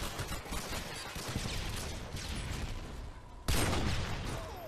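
Rapid gunfire from Modern Warfare 2 trickshotting play, a dense continuous stream of shots with a sudden louder blast near the end, close and loud.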